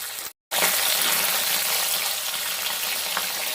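Live tilapia fish frying in hot oil, a steady broadband sizzle that runs almost the whole time after a brief silent gap near the start, close and fairly loud with no talking.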